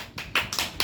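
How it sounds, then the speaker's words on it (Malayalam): A few children clap together in a classroom, giving about four short, loose bursts of hand claps in quick succession, close and moderately loud. "എല്ലാവരും ഒരു ക്ലാപ്പ് കൊടുക്കൂ"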